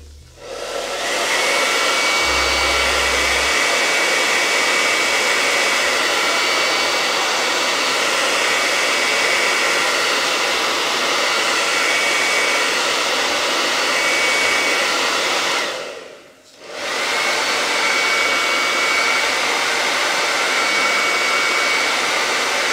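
Hair dryer blowing on crafted Christmas hoop wreath pieces, a loud, continuous close-up roar that cuts out briefly near the end before resuming.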